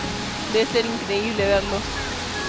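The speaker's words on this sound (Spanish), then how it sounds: "Dicen que esta cascada es una barra de oxígeno natural." A wide waterfall at Jiuzhaigou in China pours with a steady, dense broadband roar that fills the scene, while someone speaks Spanish over the constant rush of water.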